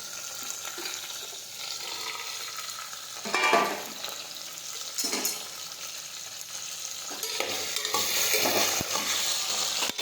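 Diced potato and pointed gourd sizzle steadily in hot oil tempered with mustard seeds, cumin and asafoetida, a continuous bright frying hiss with a few louder bursts of stirring scrapes throughout.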